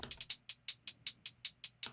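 Programmed hi-hats in Logic Pro, all at full velocity, tick in an even loud run of about a dozen identical crisp hits with no accents.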